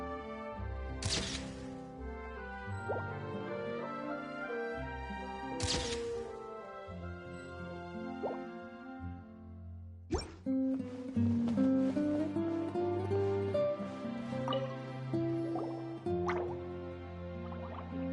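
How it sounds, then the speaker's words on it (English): Water drips and plops in Genshin Impact, clear liquid drops landing in a slow, uneven rhythm over a steady game ambience, with a brighter burst of drops partway through. "it sounds like a water droplet is on the second floor"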